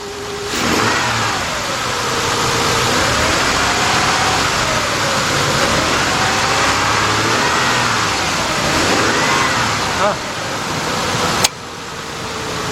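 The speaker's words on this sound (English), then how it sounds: "we definitely got a misfire here. You can tell by the way the engine is shaking." The 4.0 engine of a 2001 Ford Explorer runs with a misfire, a loud, close, continuous idle with a slowly wavering note, then a couple of sharp clicks near the end.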